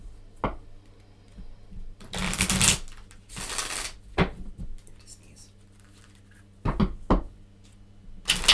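Oracle cards being shuffled by hand in a few brisk riffling bursts, close and crisp, separated by quieter pauses with faint background hum.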